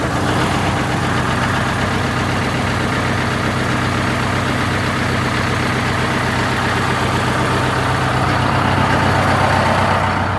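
An MCI coach bus diesel engine idles steadily after start-up, a loud, constant low rumble with even mechanical chatter and no breaks across the whole stretch.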